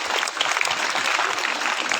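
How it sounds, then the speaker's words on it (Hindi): Students in a classroom clap loudly for class 10 A after exam results are announced, a dense, continuous burst of many hands close by with no talk over it. "10वीं ए के लिए जोरदार क्लैपिंग।"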